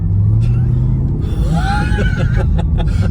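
A car engine with a baffled exhaust rumbles steadily and loudly throughout, with laughter and chuckling over it.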